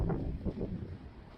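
Wind blowing across an open farm, a steady low rumbling roar with gusty swells buffeting the microphone, fairly close and continuous with no other clear sounds.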